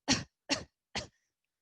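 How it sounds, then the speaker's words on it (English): Three short, breathy coughs in a row, evenly spaced and close up, deliberate rather than fitful, with silence between and after. "So now do a pretend cough."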